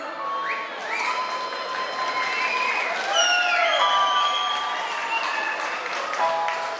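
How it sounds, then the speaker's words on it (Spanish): Wedding guests applaud and cheer after the godmother's toast, a dense, sustained burst of clapping from a nearby crowd, with whoops and voices rising over the applause. "¡Esos aplausos para la madrina!"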